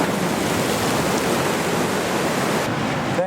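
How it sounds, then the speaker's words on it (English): Sea waves crash and splash against a harbour wall in Cullen, Scotland, a loud, steady roar of surf and spray that fills the whole few seconds with no talking. "Here comes another one. Go on, give us a right big splash."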